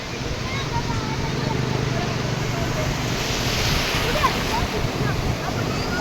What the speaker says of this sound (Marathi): अशक्य सुंदर असा अरबी समुद्र. छान घोंगावणाऱ्या लाटा आणि मन मोहून टाकणारा हा समुद्र